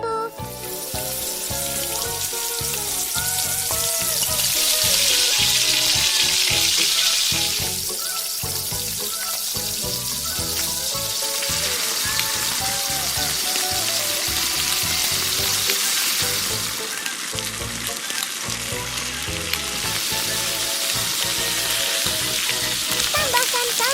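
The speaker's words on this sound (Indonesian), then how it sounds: "Goreng bumbu." Spices sizzle in hot oil while frying for crispy chili fish, a loud, steady, continuous crackle that swells slightly in intensity partway through.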